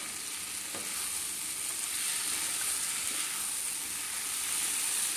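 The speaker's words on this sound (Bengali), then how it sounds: "দেখো 5 মিনিট ধরে মোচাটাকে খুব সুন্দরভাবে কিন্তু কষিয়ে নিচ্ছি।" Banana flower and cashews sizzling as they sauté in a pan, a steady close frying hiss with a couple of faint stirring scrapes.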